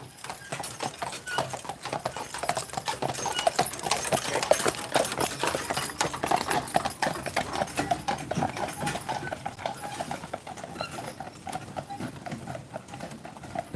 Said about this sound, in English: Horse-drawn construction